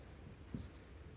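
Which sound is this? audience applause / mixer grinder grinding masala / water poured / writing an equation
writing an equation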